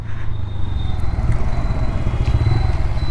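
A 2025 TVS Raider 125 hybrid motorcycle engine runs steadily nearby with a throbbing low drone and light mechanical rattle, no voices.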